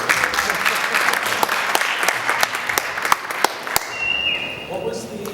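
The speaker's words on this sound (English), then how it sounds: "Smattering of applause." A scattered smattering of applause from a horror convention panel audience, individual claps standing out sharply before fading, with a thin tone and murmuring toward the end.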